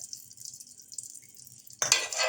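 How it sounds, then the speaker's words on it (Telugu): Ghee spread and stirred on a hot griddle pan: a soft, high hiss of frying with light scraping, quiet at first, then growing to a louder sizzle toward the end. "నెయ్యి వేసి మంచిగా అంతటా కలపాలి"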